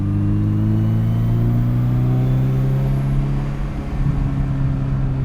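Exhaust of a Ferrari 328 GTS sports car while driving, a loud, steady low rumble with a slight rising engine tone that runs throughout and carries no talk.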